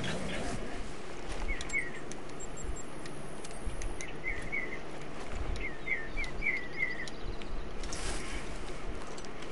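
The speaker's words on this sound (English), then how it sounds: "Noisy birds." Birds call in the game The Hunter: Call of the Wild on the Silver Ridge Peaks map, with faint, high chirps in small repeated bursts over a steady, noisy outdoor ambience.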